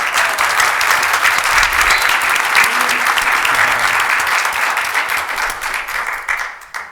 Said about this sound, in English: Thank you for your guys' applause for these lovely young ladies.